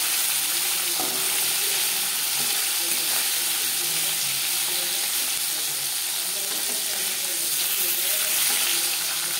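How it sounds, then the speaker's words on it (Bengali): Hilsa fish lightly frying in a pan of oil, a loud constant sizzle with faint bubbling and scattered crackles running unbroken throughout, no speech over it. "মাছ আমি হালকা করে ভেজে নেব।"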